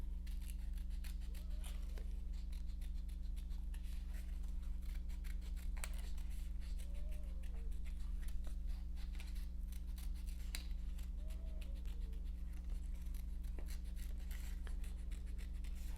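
Scissors trim around the edge of printed paper lace for a paper rosette, making steady repeated snipping and crisp paper cuts over a constant low electrical hum.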